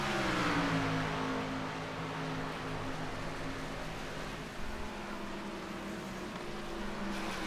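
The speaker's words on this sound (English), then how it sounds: "I can hear them pedaling the tires, or pedaling the car coming out of the corner" Race cars at Charlotte in the Security Pro Series drone loudly coming out of a corner, engines held in a steady, sustained roar that fades only slightly over several seconds.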